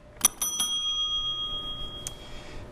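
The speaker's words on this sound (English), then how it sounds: "when their time is up, the sound of a bell will play." A single bright bell rings out clearly in a quiet room at a debate, marking that a candidate's speaking time is up; one sharp strike rings on with a long decaying tone, followed by a few fainter taps.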